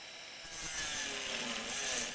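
A small cutting disc grinds a slot into the nut of a Vintage V120 guitar, a thin raspy whine that swells after a quiet start and then holds steady and close with a slight wavering edge.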